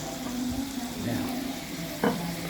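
Food sizzling in a little oil in a pan, with a steady frying hiss and a few soft stirring scrapes, one sharper clink near the end.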